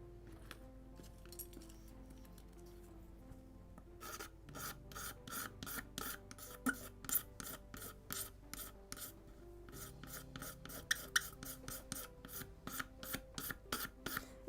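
Cyanoacrylate glue scraped off the planking of a 1:76 scale Mayflower (1620) model ship kit, quick rhythmic rasping strokes in rapid bursts after a quiet start, close and distinct, no talking.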